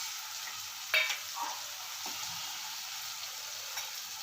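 Prawns coated in red chili, green chili, ginger, garlic paste and salt frying in hot oil, a constant bright sizzle with a sharp crackle near the start, close and without talk.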